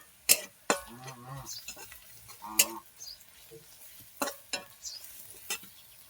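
Garlic paste dropped into frying onions in a pan, followed by faint sizzling and several sharp spoon scrapes and clacks spaced out over quiet frying.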